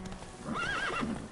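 Roach the horse in The Witcher 3, a brief neigh with a rising and falling whinny over soft hoofbeats, close and clear.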